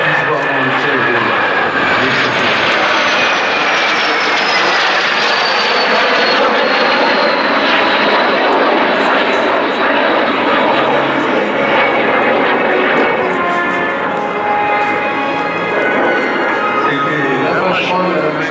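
A jet aircraft flying at the Paris Air Legend air show, a loud sustained roar with a slowly shifting whine as it passes, continuous for the whole stretch while a commentator speaks over it.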